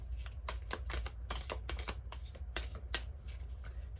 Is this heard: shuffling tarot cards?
yes